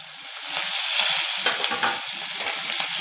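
Green chillies, curry leaves and ginger crackling in hot oil as a tempering for a variety rice dish, a loud, dense, continuous sizzle heard up close with light stirring.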